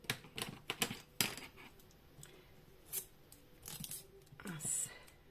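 Card is snipped with scissors while a Christmas pop-up card is made, giving a run of quick, crisp cuts and clicks up close, followed by rustling of paper and a softly spoken voice.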